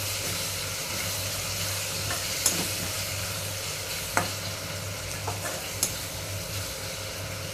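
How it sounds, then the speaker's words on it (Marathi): Cluster beans and tomato being stirred in a frying pan, a steady close sizzle with a few sharp spoon scrapes and clinks against the pan, no voices. "परत एकदा हलवते।"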